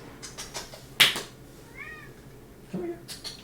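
Jinx, a house cat, lets out one short meow at moderate distance between a sharp knock and scattered soft household noises, with faint voice-like sounds near the end.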